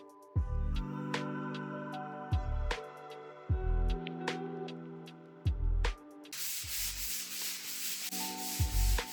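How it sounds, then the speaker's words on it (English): Rhythmic rubbing strokes of sanding on a wall, repeated scraping passes with short pauses between them, close and fairly loud, shifting to a hissier texture near the end. "So sanding we did."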